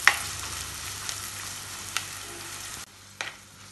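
Chopped ginger, garlic, green chillies and curry leaves sauté in oil for fish masala, a steady close sizzle with a few spoon taps; the frying noise drops sharply near the end, followed by one brief clink.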